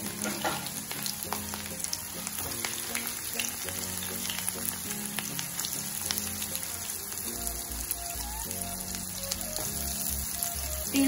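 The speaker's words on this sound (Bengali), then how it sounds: "এবার এর মধ্যে পেঁয়াজটা দিয়ে দিলাম" Onion crackles and sizzles in hot oil for spicy masala pasta, a dense continuous frying hiss with scattered pops, close and steady, with no talking.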